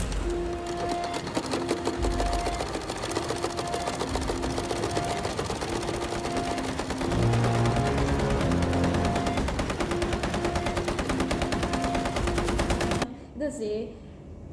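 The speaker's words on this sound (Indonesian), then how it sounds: "itu disambungkan dengan suara tembakan ding ding ding ding ding ding ding" Rapid, relentless rattling bursts of machine-gun fire from the film All Quiet on the Western Front blend with a dense musical backing, running steadily before cutting off abruptly near the end.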